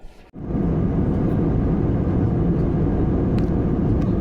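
A Sri Lankan Airlines passenger jet in flight, approaching the Sri Lankan coast, produces a steady, heavy cabin drone, a constant low roar that stays unchanged throughout with no voices.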